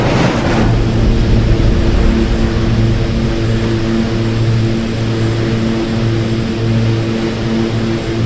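Steady loud drone of the twin turboprop engines of an OV-10 Bronco in the DCS combat flight simulator, a continuous propeller hum with a brief swell at the start and no voices.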